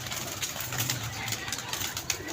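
Pigeon cooing at a pigeon club, a low, soft, steady murmur of coos over constant background hiss and faint chirps, with no clear talk.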